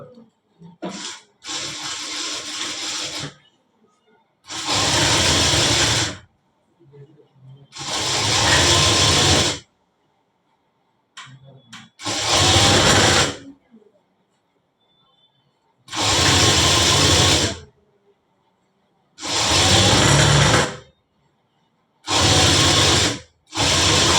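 A sewing machine stitches a quarter-inch seam on a lined blouse, running loudly in repeated bursts of a few seconds each with quiet pauses between them.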